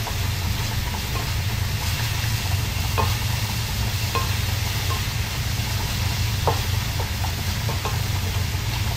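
Food sautéing in olive oil in a pan gives a steady, close hiss and sizzle with occasional soft clicks of stirring, over a constant low background hum and no talking.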